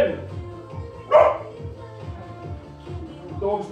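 A dog barks once, a short, sharp bark, during a kettlebell HIIT workout at home, set against background music and a person talking.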